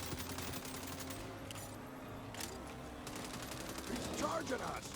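Bursts of gunfire from the Saints Row video game, a dense fusillade of shots rattling steadily through the clip with sharper crackling near the end, layered over game background sound.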